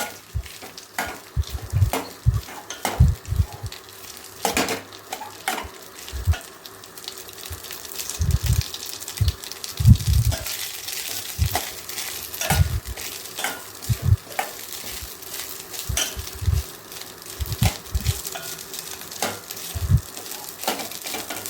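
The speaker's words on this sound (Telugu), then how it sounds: "నెయ్యిలో అన్నం వేగితే కొంచెం టేస్ట్, ఫ్లేవర్ వస్తుంది అని చెప్పేసి అన్నం దాంట్లో వేస్తున్నాను నేను" Cooked rice frying in ghee in a pan, a continuous soft sizzle broken by repeated scraping stirs of a spoon, close and fairly loud, with no voices.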